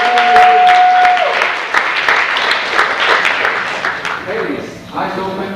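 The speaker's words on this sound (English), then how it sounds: "All the applause." Audience applause at a hypnosis show at a high school project graduation event, steady clapping from a crowd held throughout, with a voice speaking over it.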